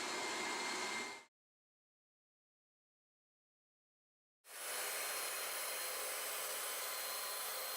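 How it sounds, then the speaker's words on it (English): Hoover SteamVac All Terrain Max carpet cleaner running with a loud, steady broadband whoosh, cutting out for a few seconds of silence before starting up again at full volume, with no talk. "The SteamVac is quieter on carpet, but reaches above 90 decibels on hard flooring."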